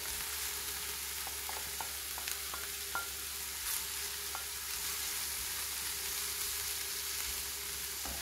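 Chanterelle mushrooms fry with cooked onions in a pan, making a quiet, steady sizzle. A few faint ticks and pops sit over a constant low background hum.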